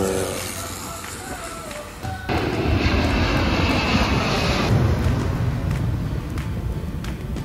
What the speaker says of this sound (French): la fameuse Mao Beach, d'où on peut apercevoir les avions décoller et atterrir